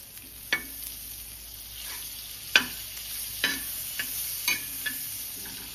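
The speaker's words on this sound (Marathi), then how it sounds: "आता मी इथे एक तवा तापत ठेवलेला आहे, त्याच्यामध्ये बटर घालते" Steady soft sizzle of butter on a hot griddle, with a few sharp clinks and scrapes of a utensil scattered over it.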